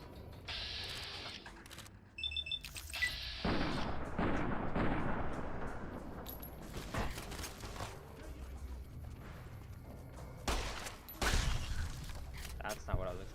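Gunfire from Fallout New Vegas: bursts of shots and booming impacts scattered through the stretch, fairly loud, with someone talking over parts of it.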